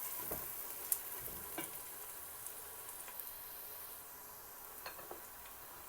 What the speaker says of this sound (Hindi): एक दो मिनट के लिए लहसुन अदरक का पेस्ट डाल के इसको भूनेंगे।